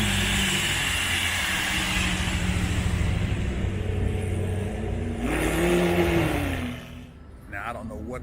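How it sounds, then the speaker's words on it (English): A Jeep Grand Cherokee SRT on a street during a car week gathering revs with a deep, throaty rise and fall of the engine note that climbs and fades, close by, with crowd murmur and voices around it. "I don't know what the hell that SRT had going on with it, that Grand Cherokee, but that thing sounded wicked."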